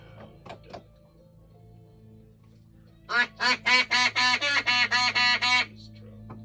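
A cartoonish duck quack effect bursts out in a rapid string of about nine loud, evenly spaced quacks after a quieter lead-in with a few faint clicks.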